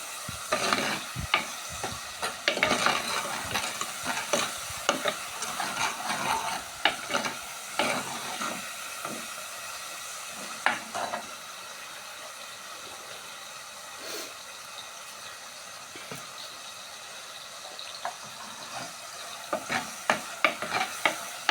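Onion, tomato, green chili, garlic and ginger sauté in a pan for a fish curry, giving a soft continuous sizzle broken by frequent scraping and stirring clatters from a spoon, with no talk.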